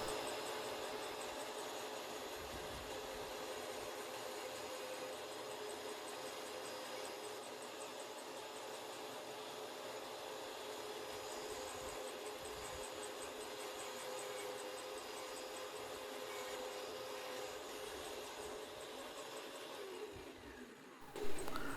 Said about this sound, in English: I'm gonna have to continue with the saw right here